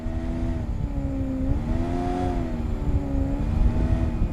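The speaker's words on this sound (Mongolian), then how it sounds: "Дахиад машин яваад байна." A car drives in the video game PUBG Mobile, its engine droning steadily and rising and falling in pitch as it accelerates, close and continuous with no talk.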